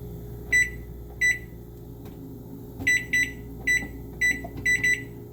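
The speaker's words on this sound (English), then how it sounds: "Microwave. It says about 1 minute," A microwave oven being set to heat frozen sausages gives a series of crisp electronic beeps, some single and some in quick pairs, loud and close over a steady low hum.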